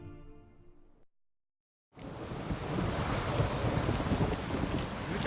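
Steady heavy rain with windy hiss in The Witcher 3: Wild Hunt, surging in loudly after a brief silence and continuing dense and constant.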